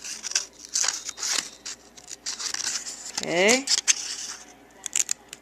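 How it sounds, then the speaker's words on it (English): Scissors snipping through paper along drawn lines to cut tessellation pieces: a run of crisp, close cuts and paper rustling, with a brief spoken word. "I'm going to cut it out exactly on the lines that I drew."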